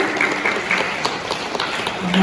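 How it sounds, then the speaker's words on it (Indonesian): Scattered clapping from an audience at a morning workshop and training session on altar decoration, moderately loud and fairly thin, with a murmur of voices beneath it throughout. "kita bisa tepuk tangan yang meriah"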